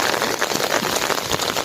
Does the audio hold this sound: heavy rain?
yes